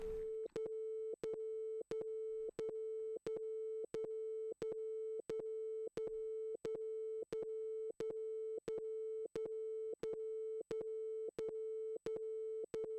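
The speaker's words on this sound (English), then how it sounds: "let's have a look at that sine wave easy test signal" A steady mid-pitched sine test tone passing through a compressor plays alone, broken by sharp clicks at an even rhythm of roughly one every 0.7 seconds.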